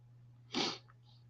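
A single short, sharp sneeze bursts out at close range over a low, steady background hum.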